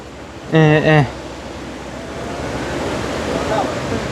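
A river or small waterfall runs beside a coffee farm, giving a steady broadband rush of flowing water throughout, broken early on by a short voiced call.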